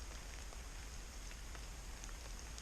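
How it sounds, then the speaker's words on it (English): Light rain falls steadily outdoors in sunshine, a soft, even patter with scattered faint drops close by, continuous and without talk. "It's been a nice little rain, but it's not soaking anything real bad."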